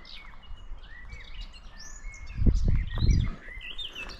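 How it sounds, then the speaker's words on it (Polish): Birds chirp and whistle in short, scattered calls in the distance, with a couple of dull thumps or rustles midway. "Ale mnie tu ptaszki śpiewają."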